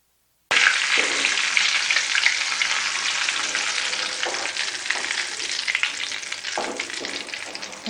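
Washed curry leaves dry-roasting in a pan over a low flame while chivda is being made. A steady, loud sizzle and crackle starts abruptly after a brief silence and continues alone to the end.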